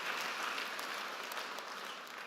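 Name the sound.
applause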